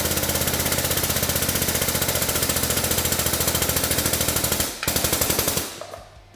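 A wheel stud is pressed through the hub with a 14mm socket during a portal gear install on a Polaris RZR Turbo S: a loud, rapid, machine-gun-like rattle runs steadily for about five seconds, breaks briefly, resumes, then trails off.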